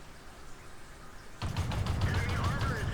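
A VK 16.02 light tank in World of Tanks starts unloading its autoloader clip: after a quiet opening, a rapid burst of loud gunfire rattles on through the second half.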